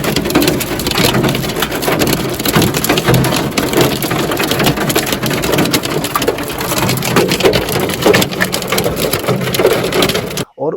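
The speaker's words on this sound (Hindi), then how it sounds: "इतना तेज़ बारिश और ओले पड़ने लगे कि विजिबिलिटी ही ज़ीरो हो गई।" Heavy rain mixed with hail pounds down during a drive to Ranikhet, a loud, dense, continuous drumming and crackling clatter of impacts that stays intense throughout before cutting off abruptly.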